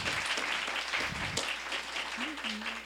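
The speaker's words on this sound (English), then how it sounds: "let's give a round of applause" Audience applause at a bee-themed event in a butterfly pavilion, a steady even patter of clapping with a few voices briefly rising under it.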